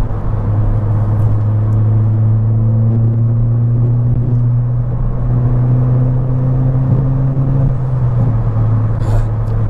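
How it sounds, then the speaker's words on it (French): A Ford Fiesta ST 200 with a stage 1 tune and six-speed gearbox rumbles steadily while driving, its loud engine drone holding an even pitch throughout with no voices. "tu sens la ligne qui gronde et le moteur qui se réveille"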